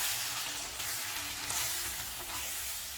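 Chili powder sautéing in a pan for Chettinad vathal kuzhambu, a dense continuous sizzle with a soft scraping of stirring throughout, close and steady.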